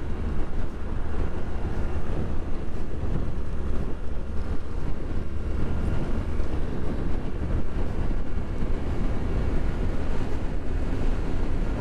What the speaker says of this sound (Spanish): Oh, mucho viento en contra.